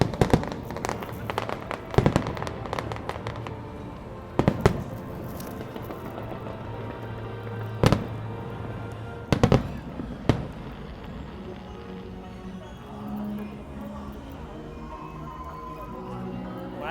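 Fireworks at a New Year display in Taiwan, heard from a distance: scattered sharp booms and crackling bursts, some in quick clusters, over a steady background of crowd noise and people talking.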